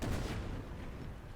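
Cannon firing canister shot in the Napoleon Total War video game, a single heavy boom that rolls on as a dense, rumbling burst of fire for the rest of the moment.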